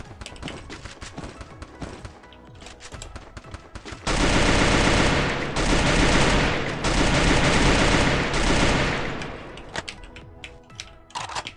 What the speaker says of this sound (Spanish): ¿Quién estaba disparando eso?